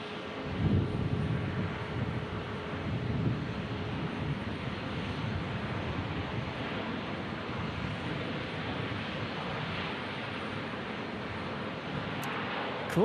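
A fixed-wing airplane taking off at Omaha Eppley Airfield, a steady distant engine roar and rumble, heard with wind noise and no talking.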